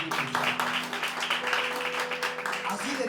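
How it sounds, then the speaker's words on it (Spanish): Congregation applauding in a church service, steady dense clapping filling the room, with a voice speaking over it throughout. "Dale un fuerte aplauso al Espíritu Santo"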